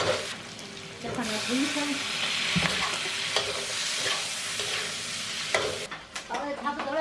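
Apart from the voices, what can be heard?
stir-frying homemade bean paste in a wok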